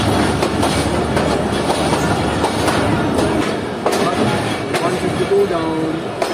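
The Shah Hussain Express passes, led by Lahore's AG30 locomotive 6017, with a loud, continuous rumble and a steady clickety-clack of wheels heard close up the whole way through.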